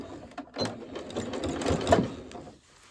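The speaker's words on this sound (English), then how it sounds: "I'm going to sew up to this corner" A sewing machine stitches binding onto a fabric table runner, its rapid mechanical whirring running in short bursts with small pauses, close by and with no speech.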